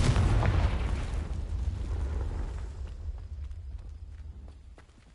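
A magical blasting spell explodes in Hogwarts Legacy with a loud, close boom that roars and then rumbles away, fading out over several seconds.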